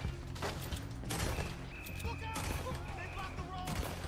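Gunfire from the Red Dead Redemption 2 video game on PS4 Pro: a flurry of loud, rapid shots and bursts, some overlapping, with metallic mechanical clatter between them and a voice talking underneath.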